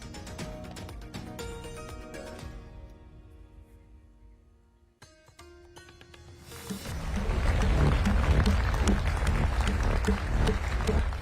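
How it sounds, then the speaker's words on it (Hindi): Applause swells from a crowd at the G20 summit stage in New Delhi, rising to a loud, sustained wash of clapping after a quieter stretch of tonal sound. "मोदी ने ऐसा क्या कहा कि G20 का पूरा मंच तालियां बजाने लगा।"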